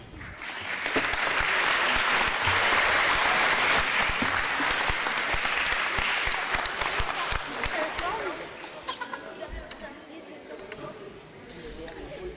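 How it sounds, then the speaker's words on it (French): Sustained audience applause for the Senate president at an Armistice Day ceremony, a large hall of clapping that swells, holds for several seconds, then thins out with some murmuring voices underneath. "vous demandant d'applaudir celle qui nous accueille ici"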